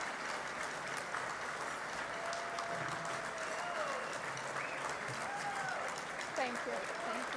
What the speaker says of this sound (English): You all get applause